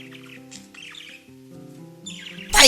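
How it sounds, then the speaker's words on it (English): Parrots at Parrot Jungle Island in 2004 squawking and chattering up close, with several overlapping calls and a loud harsh squawk at the end. "Poor old Butcher Bob is getting bit by the birds today"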